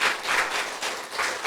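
Audience applause at a Christian lecture event, a steady wash of clapping from a crowd with slight swells, moderately loud and continuous with no talking over it.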